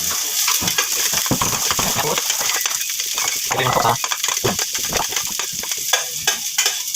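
Onions and garlic sizzling in hot oil as they fry to golden brown for a sigarilyas (winged bean) dish, with steady crackling and scraping stir strokes throughout, close and fairly loud.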